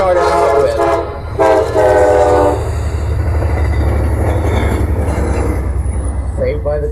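A train passes close and loud, its horn blasting twice in strong tonal bursts before giving way to a steady rumbling roar of the cars rolling by.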